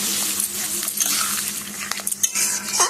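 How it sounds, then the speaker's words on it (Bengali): Rice flour is stirred into a vegetarian vegetable dish in a pan, producing close scraping and clinking of a utensil against metal over a soft sizzle. "এবার চাল গুঁড়োটা দিয়ে নাড়াচাড়া করে"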